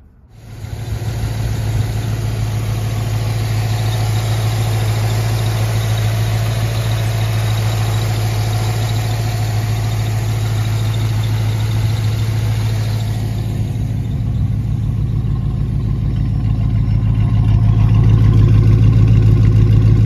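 A 1936 Ford Coupe V8 engine cranks and catches, then settles into a loud, steady idle with a deep, even drone that rises slightly near the end, with no talking.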